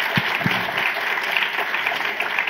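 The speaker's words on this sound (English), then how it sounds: "A round of applause for my panel" Audience applause for a debate panel at a conference, sustained dense clapping from a full room, steady and fairly loud throughout.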